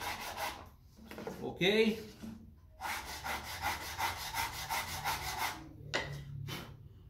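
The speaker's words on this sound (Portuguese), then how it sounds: "Vou pegar e vou passar um pouquinho de lixa nos tocos" Sandpaper rubbed over the wooden edges of a handmade wooden box, heard as repeated close scratchy strokes in steady bursts with short pauses, and a brief spoken word partway through.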